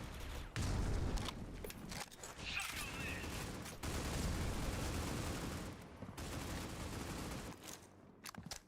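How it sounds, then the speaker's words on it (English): Video game gunfire during an esports Pro League grand finals match: dense, rapid volleys of shots that keep rattling with brief breaks, fairly loud and sustained throughout. "A lot of bullets being fired."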